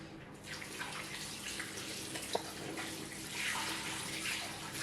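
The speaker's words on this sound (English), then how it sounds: "I'm just going to go ahead and rinse my face" Tap water runs steadily into a sink while a face is rinsed, a close continuous splashing hiss with small shifts as hands move through the stream, no talk.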